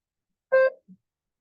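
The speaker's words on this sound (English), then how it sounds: "Begin speaking after the beep." A single short electronic beep, clear and tonal, signalling the start of a TOEFL speaking response, followed by a faint low blip, with silence around it.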